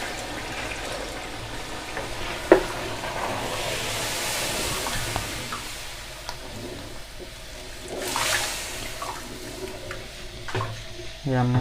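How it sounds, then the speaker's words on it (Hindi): Three glasses of water are poured into chickpeas cooking for Lahori chana masala, a splashing, gushing pour with sizzling under a speaking voice, followed by a clink of utensils. "ये हम 3 जग जो है 3 गिलास पानी डाल रहे हैं।"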